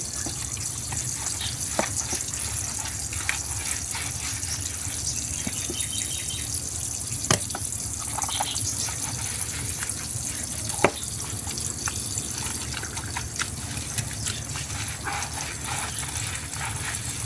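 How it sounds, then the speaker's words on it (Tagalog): Water poured and splashing while puppies are bathed, a steady running-water wash with scattered drips and sharp splashes over seventeen seconds, fairly close, with faint voices in the background. "lagyan ng tubig."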